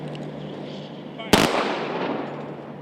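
Rifle volley salute at a veterans' ceremony, a single sharp, loud crack of simultaneous shots on command, ringing briefly outdoors after a quiet pause.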